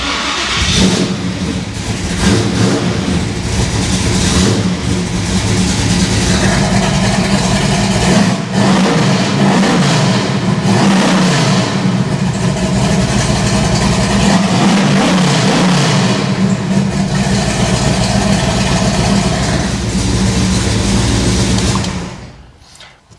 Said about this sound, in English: Start this thing with the mufflers intact.